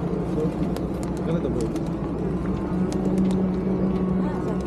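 Pigeons cooing among other birds outdoors on a winter day in Kazakhstan, soft coos blending into a busy crowd and traffic bed, with people talking throughout.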